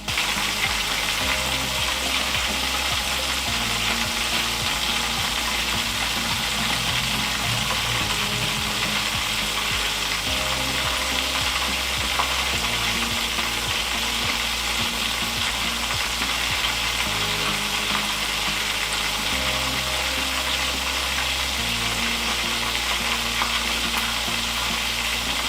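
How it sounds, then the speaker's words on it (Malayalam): Banana chips (upperi) fry in hot oil, a loud, continuous dense sizzle with rhythmic stirring and scraping through the whole stretch, close up. "അതിനുശേഷം വറുത്ത് കോരിയെടുക്കുക."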